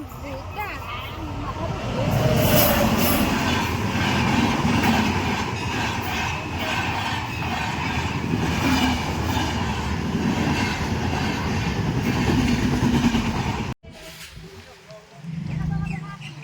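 A train rumbles past at a level crossing, its wagons clattering in a long continuous roar that cuts off abruptly near the end, with voices talking around it.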